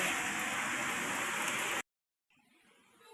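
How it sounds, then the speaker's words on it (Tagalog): Steady broadband hiss of rain falling in Bulacan for under two seconds, then an abrupt cut to near silence before faint rain noise returns. "Nabutan kami sa ulan dito"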